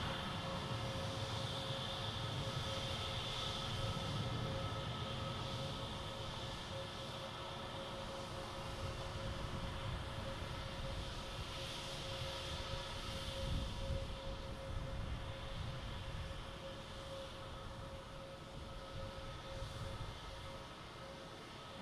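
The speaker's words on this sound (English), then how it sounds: "Spirit Airlines pulling right in here." A Spirit Airlines airliner taxis in at Boston Logan Airport with a steady, faint jet engine hum and a sustained tonal whine, swelling and easing slightly over the span.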